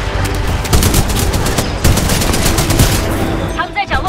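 Rapid gunfire from the shooter video game Titanfall 2, loud and close, with dense bursts of shots through the whole stretch and a brief lull near the end.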